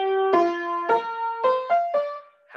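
Opening motif of the Promenade from Mussorgsky's Pictures at an Exhibition, played alone as a short phrase of about five detached, ringing notes with clear harmonics, steady and close, with no talk.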